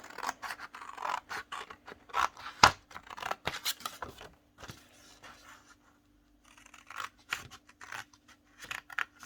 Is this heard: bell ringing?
no